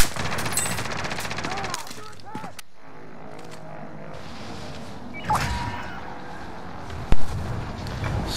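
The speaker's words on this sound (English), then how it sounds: "So much gunshots." Machine-gun bursts and scattered gunshots in a Warzone match, rattling volleys that thin out midway and then return, with a sharp loud crack near the end and some voice chatter mixed in.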